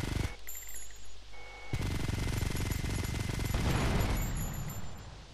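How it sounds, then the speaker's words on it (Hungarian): Rapid automatic gunfire from the video game GTA Vice City rattles loudly in dense, sustained bursts after a short quieter lead-in. "elkezdtünk lövöldözni."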